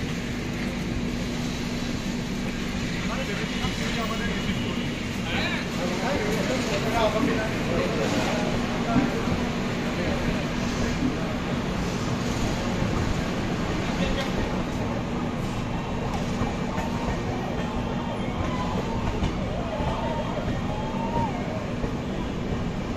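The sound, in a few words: Azad Hind Express train running, inside AC 3 tier coach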